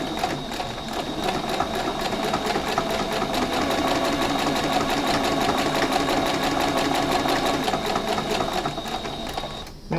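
Sewing machine stitching a children's dress with a half-centimetre seam allowance, running in a steady fast continuous stitching rhythm at close range for nearly the whole time, stopping just at the end.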